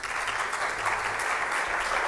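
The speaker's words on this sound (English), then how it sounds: "A big applause for him." An audience at the Barcelona Deep Tech Summit 2022 applauds in a steady, dense wash of clapping heard from within the hall, continuous throughout.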